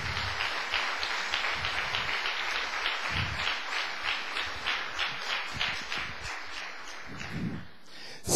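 A church congregation claps steadily throughout, a full room of applause with an even, sustained texture that fades slightly near the end.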